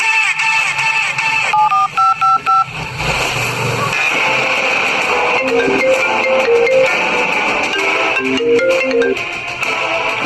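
Mobile phone keypad dialing tones: a quick run of about five short, evenly spaced beeps, fairly loud and close, followed by continuing background music and ambient noise.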